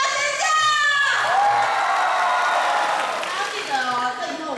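An audience at a university department's freshman welcome event screams and cheers loudly on cue, a dense sustained roar of shrill crowd voices that fills the whole stretch and eases slightly near the end.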